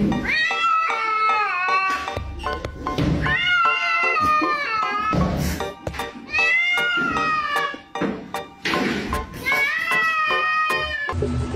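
A cat meows repeatedly in long, wavering cries, fairly close and clear, with short pauses between calls.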